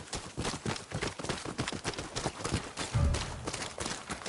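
Horse hooves approaching in Ghost of Yotei: a steady, rhythmic clip-clop of trotting hooves drawing near, fairly quiet and clear, with no talk over it.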